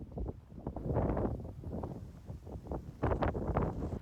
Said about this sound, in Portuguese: um vento forte